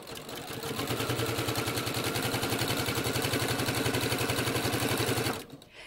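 A sewing machine stitches quilt fabric in a steady, fast mechanical rhythm, close and continuous for about five seconds before stopping abruptly, with no talking.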